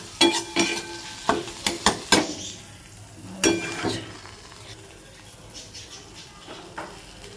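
Egg bhujia, scrambled eggs, cooking in a pan, with a quick run of sharp spatula scrapes and knocks early on, then softer stirring over a low, steady sizzle, close up and without speech.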